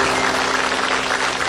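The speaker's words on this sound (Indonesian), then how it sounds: "tepuk tangan dulu untuk Cak Lontong." Loud, steady applause from a studio audience for the comedian Cak Lontong, a dense wash of clapping filling the short moment with a faint low hum underneath.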